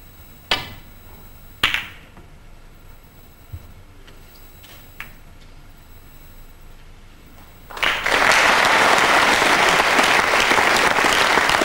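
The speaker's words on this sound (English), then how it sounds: "Generous applause for that well-executed safety from Higginson." Snooker audience bursts into steady, full applause after a safety shot at the 2007 Welsh Open final, following a quiet stretch with a few sharp ball clicks on the table.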